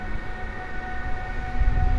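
An Intercity passenger train hauled by an EU160 electric locomotive pulls away from a Warsaw station, with a steady tonal electric whine over low rumbling that grows louder toward the end.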